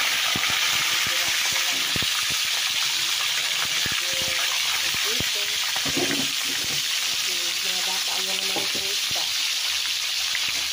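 Dalagang bukid fish frying in oil gives off a loud, dense sizzle that hisses steadily throughout, with faint clinks and movement underneath.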